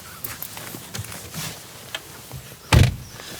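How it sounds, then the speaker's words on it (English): The frameless door of a Porsche Macan Electric pulled open: light clicks and soft handling noises, then a single loud thunk from the latch and door, close and alone. "Let's pull back the frameless door and take a look"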